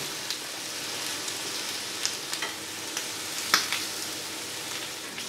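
Shrimp sizzle on a hot grill, giving a steady crackling hiss broken by small pops and a few louder spits; no voices.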